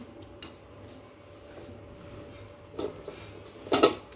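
Tomato chicken curry being stirred and sautéed in a pan: a metal spoon scrapes and clinks against the pan in a few scattered, faint knocks, louder near the end, under a low background hiss.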